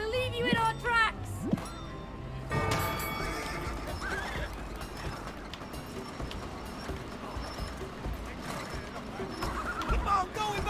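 Horse neighs and whinnies with galloping clip-clop hooves in the co-op video game It Takes Two, a whinny near the start over steady galloping, with game music underneath.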